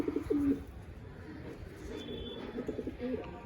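Madrasi pigeons coo at close range in soft, repeated throaty phrases that come in short bursts at the start and again near the end, over a quiet background of low hum.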